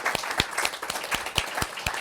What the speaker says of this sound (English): could we give up one more big round of applause, please